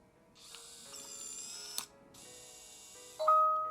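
The small motor of a eufy Security Video Smart Lock E330 whirs and ratchets as it locks automatically, with a click midway and a short electronic beep at the end.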